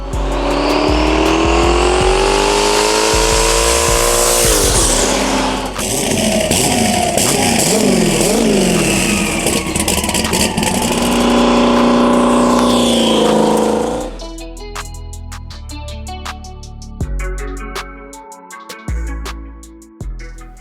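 A 1,200 horsepower turbocharged Trans Am with a 91mm turbo and 388 cubic inch LS V8 on Holley EFI roars loudly and continuously, revving up with rising pitch, then settling into choppy, uneven engine bursts toward the end.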